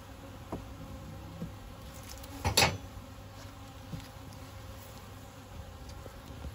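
Honey bees hum steadily in an opened hive that had swarmed, a faint, continuous buzz with one louder burst about midway as a bee passes close.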